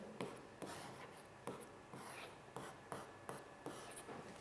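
Chalk or marker strokes on a lecture-hall board during a physics lecture, a steady series of short scratchy taps and rubs in an irregular rhythm, close and fairly quiet, with no talking.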